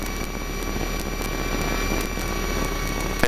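Robin DR400 light aircraft engine running steadily during a magneto check, a loud, continuous droning hum with regular propeller pulsing and no one speaking.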